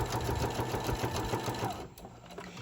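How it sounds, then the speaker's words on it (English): A sewing machine stitches pennant banners with a rapid, even mechanical chatter, close and steady for about two seconds before slowing and easing off. "I'm sewing like right along here."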